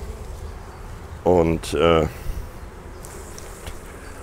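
Honey bees buzzing around an open brood box during a beehive inspection, a steady low droning hum running through the whole clip, briefly overlapped by a voice speaking near the middle.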